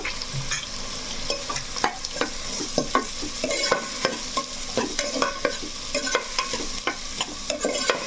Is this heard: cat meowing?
no